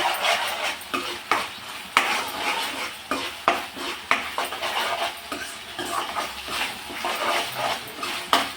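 Mint, onion and coriander are stirred in a pan with ginger-garlic paste and turmeric, giving a steady scraping and clinking of a spoon against metal with a faint sizzle underneath, repeated in irregular strokes without any talking.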